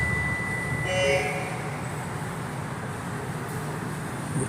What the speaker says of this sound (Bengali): গো ট্রেন দেখছি